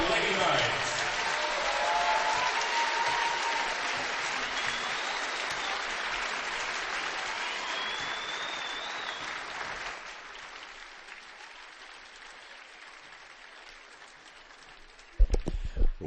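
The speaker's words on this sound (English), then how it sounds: "please join me in giving one final round of applause for this year's Norwell Senior Lady Knights" Sustained audience applause in a high school gym honoring the senior girls' basketball players, broad and steady for about ten seconds before thinning to scattered clapping, then a brief loud burst near the end.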